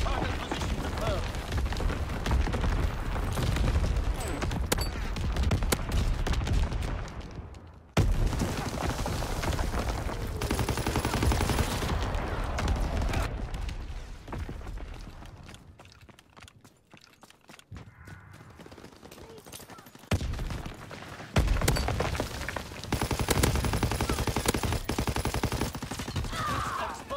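Call of Duty WWII Hardpoint multiplayer match with a dense, continuous artillery barrage and rapid gunfire, heavy booming impacts and rattling shots that ease off briefly midway before building again, with occasional game voice callouts over it.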